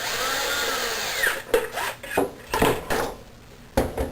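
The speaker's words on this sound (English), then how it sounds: "you take your drill or your screwdriver and screw it in" A power drill whirs in short bursts as a screw is driven into wood beside a metal piece of a Tokyo Marui Thompson, with pauses and scraping between the spurts.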